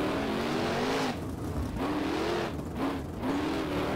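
A 410 sprint car racing at Lincoln Speedway in rFactor, its engine roaring loudly and steadily as the pitch rises and dips through repeated throttle lifts on the dirt oval.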